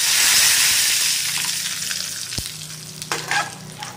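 Mustard seeds and urad dal sizzle and crackle in hot oil in a pan for a Tamil lentil chutney, a steady loud frying hiss with sharper pops near the end.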